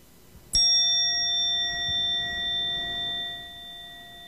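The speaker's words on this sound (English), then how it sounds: "I'll use my magic bell here to start us and to end." A single meditation bell is struck once, a bright ring with sustained harmonic tones that slowly decay over several seconds in a quiet room.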